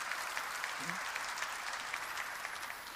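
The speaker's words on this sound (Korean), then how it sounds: "믿으면 박수야" Korean church congregation claps together during a sermon, a fairly faint but dense rush of hands with some distinct individual claps, lasting about three seconds; a brief voice surfaces under it early on.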